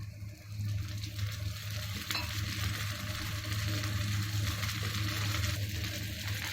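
A thin oats dosa fries in oil on a hot pan, a steady soft sizzle with a low continuous hum underneath and a faint clink partway through, no voices.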